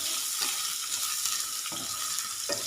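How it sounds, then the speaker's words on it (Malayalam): Garlic and ginger frying in coconut oil in a pan for a soya roast, a dense continuous sizzle with occasional stirring scrapes, close and steady, no talk. "വെളുത്തുള്ളി ഇഞ്ചി ഒന്ന് നന്നായിട്ടൊന്ന് വെളിച്ചെണ്ണയിൽ കിടന്നിട്ടൊന്ന് മൂത്ത് വരണം."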